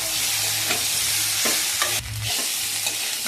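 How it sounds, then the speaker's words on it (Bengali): Ginger paste stirred and fried on a low flame, a continuous crackling sizzle broken by spoon scrapes against the pan, close and uninterrupted by speech. "আমি এটা হালকা করে নাড়াচাড়া করে নেব যতক্ষণ না আদার গন্ধটা চলে যাচ্ছে"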